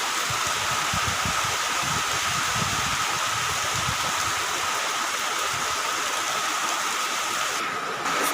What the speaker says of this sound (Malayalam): ഇവിടെ രാവിലെ തന്നെ നല്ല മഴയാട്ടോ